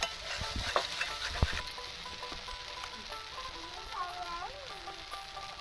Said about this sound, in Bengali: ততক্ষণ অবধি আমি এরকমভাবেই মশলাটাকে কষিয়ে যাব।